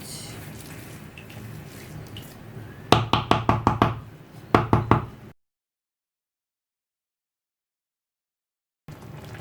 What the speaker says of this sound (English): I'm gonna add a bit water again